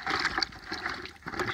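Water from a spigot sloshes and splashes around freshly harvested carrots in a container during a December harvest, a faint, fluttering liquid rush with uneven surges, heard alone.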